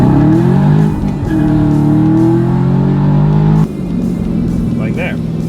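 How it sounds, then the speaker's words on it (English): A supercharged daily-driver car accelerates hard as the throttle opens into boost, its engine note rising steadily and loud up close, then shifting down after a change. "if I want to go into boost, I just put my foot in it and I go into boost"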